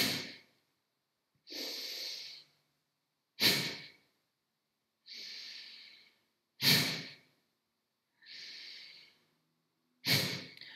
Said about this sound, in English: exhaling through the nose and squeezing the tummy in